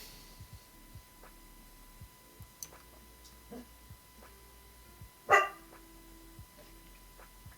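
A dog barks a few times far off, faint and sparse against a quiet room background, with one louder bark standing out midway.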